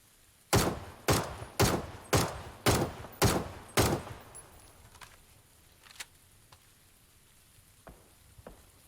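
Gunfire in the battle royale game PUBG: seven loud, evenly spaced shots about half a second apart ring out close by, followed by scattered fainter distant reports.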